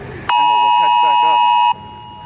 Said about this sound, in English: I just had a curfew alarm on my phone